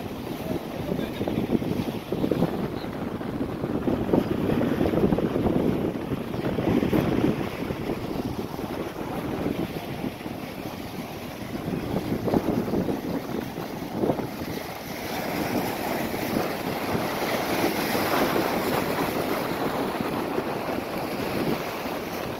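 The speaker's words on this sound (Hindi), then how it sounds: "बहुत तेज हवा चल रहा है।" Strong wind buffets a boat at sea off Palm Jumeirah in Dubai, a steady roaring rush mixed with waves and splashing water, continuous and fairly loud with gusty swells and no talking.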